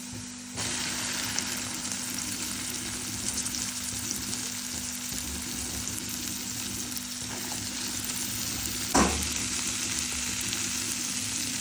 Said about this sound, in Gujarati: હું ભીંડાને બરાબર હલાવી દઈશ।